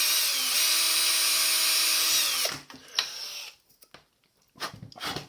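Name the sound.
power drill drilling a small hole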